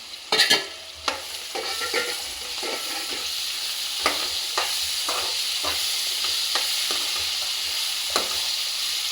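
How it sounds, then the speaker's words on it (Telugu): Tomatoes stirred into a pan of red chilli and coriander frying in oil, with a steady close sizzle broken by sharp scraping spatula strokes at irregular intervals, no voices. "ఇప్పుడు మనం టమాటోస్ యాడ్ చేద్దాం"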